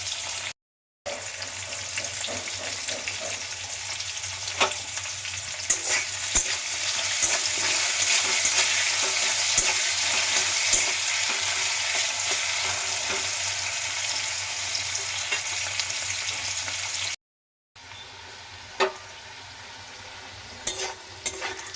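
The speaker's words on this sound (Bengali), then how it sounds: "আলুটা কিন্তু এখন ভাজা হয়ে গেছে" Thick-cut potatoes with turmeric and salt fry steadily in oil for a Bengali potato fry, a continuous close sizzle with occasional stirring clicks and scrapes, briefly cut by two short gaps.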